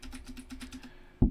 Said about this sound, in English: you hit the keyboard.